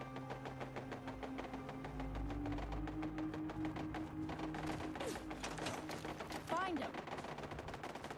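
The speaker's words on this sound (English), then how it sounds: "I hear gunfire." Rapid automatic fire from a turret in the video game Fallout 4 rattles in dense, regular bursts over a game soundscape with a low hum, loud and fairly close, with speech also present.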